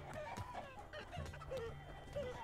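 Several short chicken clucks come from a chicken-man unit in Totally Accurate Battle Simulator, quick and fairly faint, spaced over a low background.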